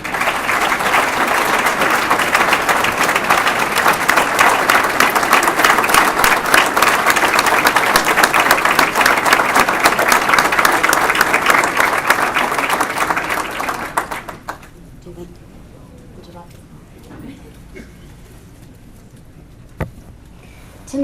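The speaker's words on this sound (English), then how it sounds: "Please join me in a round of applause" Audience applause at an evening reception honoring a lieutenant governor, loud dense sustained clapping for about fourteen seconds that then fades out into a quiet room with a single sharp knock near the end.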